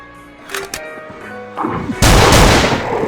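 Lung Puncher shotgun in the video game Aneurism IV, a few sharp shots and impacts followed by one loud, heavy blast that rings out near and alone.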